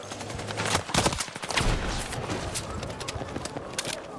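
Battlefield 6 gunfire crackles in irregular bursts, with several loud nearby shots and scattered fainter ones amid busy battlefield noise and no talking.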